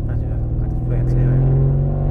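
A 2017 Mercedes C63S AMG engine rumbles steadily up close from inside the cabin, a deep sustained drone that swells slightly as it accelerates, with a voice speaking over it.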